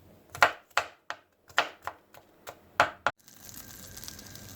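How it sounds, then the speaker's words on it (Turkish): A knife finely chopping garlic on a board while making mütebbel, sharp close knocks in an uneven rhythm of about ten strokes, followed by a soft hiss. "Patlıcanlarımızı doğradıktan sonra ikinci sarımsağımızı da ince ince kıyıyoruz."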